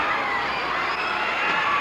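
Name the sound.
wrestling crowd cheering wildly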